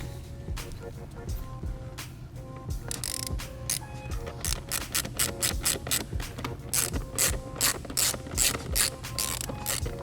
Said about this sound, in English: For us, I'm going to use this little T25 on the airbox.